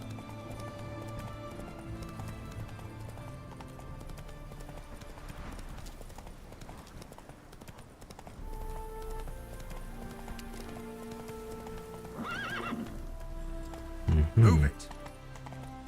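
Geralt's horse Roach gallops in The Witcher 3, with a steady, rhythmic clip-clop of hooves under game music and a voice, and a brief louder burst near the end.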